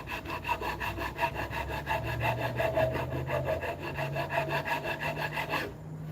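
A cane being carved, with wood filed or rasped in a quick, even rhythm of back-and-forth strokes, close and steady for several seconds before stopping abruptly.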